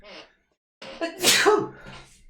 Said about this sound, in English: I just need to sneeze.